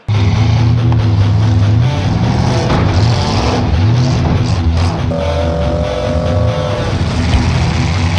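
A 1963 Ford Galaxy stock-class demolition derby car at the Platte County Fairgrounds, its loud engine heard from inside, revving and surging in repeated rising and falling swells, with a rough, throaty rumble throughout.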